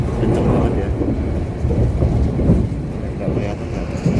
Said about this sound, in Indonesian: Makanya kenapa ini rasanya kereta api Argo Semeru bisa kenceng banget ya.